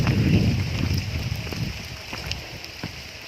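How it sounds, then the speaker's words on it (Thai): Steady broadband hiss of rain falling outdoors, with scattered drop patters and some wind rumble, heavier at first and easing slightly. "ฝนตก"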